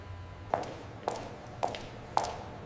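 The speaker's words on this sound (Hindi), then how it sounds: "तेज कदमों से थाने में आई हूं मैं।" Quick footsteps come into a police station, four sharp evenly spaced steps about half a second apart, fairly close and distinct over a quiet background.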